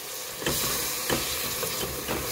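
Water poured into a pan of frying taro sets off a loud, steady hissing sizzle, with soft scraping stirs pulsing through it at regular intervals.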